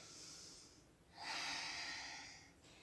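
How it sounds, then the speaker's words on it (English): A yoga instructor draws one slow, deep breath during a morning flow, a soft airy inhale followed by a longer, louder exhale, close and quiet with no speech. "Take another breath here."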